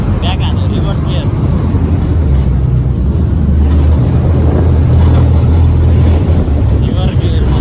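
A Sydney harbour ferry's engine runs in reverse gear, a steady, heavy low drone with churning water close by and hardly any change in pitch.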